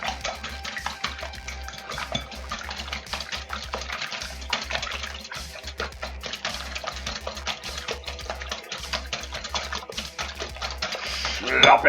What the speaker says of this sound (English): And a whisk away we whisk and go.